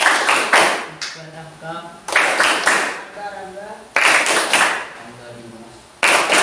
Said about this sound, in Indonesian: Oke, tepuk tangan dari teman-teman